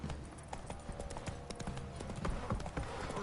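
Hooves of Roach, a horse in The Witcher 3, pound out a quick galloping clip-clop rhythm, faint and steady under soft game ambience.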